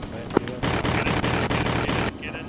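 Dense, rapid gunfire in Arma 3 fills about a second and a half, loud and continuous with sharp repeated cracks, followed by quieter background after a brief sound at the start.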